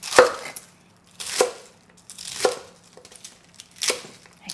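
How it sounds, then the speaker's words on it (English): Fresh cabbage being chopped into bite-sized pieces for spicy chicken dakgalbi, four crisp knife strikes on a board at roughly one-second intervals, close and clear with no talk. "Cut into bite-sized pieces."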